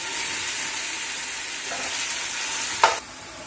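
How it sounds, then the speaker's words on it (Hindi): Ginger garlic paste frying with onions in a pan for a Pakistani mutton biryani: a steady, close, loud sizzle with faint stirring scrapes, and a brief clatter near the end before the sizzle drops slightly. "1 मिनट तक जिंजर गार्लिक को जो पेस्ट था उसको प्याज में भून लिया है।"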